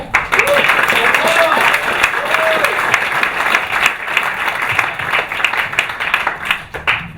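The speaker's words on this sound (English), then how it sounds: "So quick round of applause for Paul" An audience at an accelerator demo day applauds Paul Orlando with sustained clapping and some crowd noise, while a voice speaks briefly over it before the applause thins toward the end.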